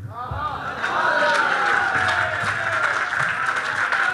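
An audience at a Punjabi poetry recital applauds in a dense, sustained burst of clapping that swells after the first second and stays loud, with a voice speaking over it.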